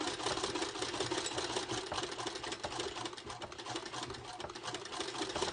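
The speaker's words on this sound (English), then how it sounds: "Now I'm just going to stitch all the way around it like I did on the" A sewing machine stitches around a handbag lining in a fast, even, continuous whir of needle strokes, close and steady throughout with no talking.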